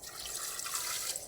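Water poured from a vessel into a pot of turmeric-seasoned dal on the stove, a short, steady splashing trickle heard up close with no talking.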